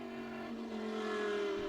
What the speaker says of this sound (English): you can hear the car in its full glory tonight.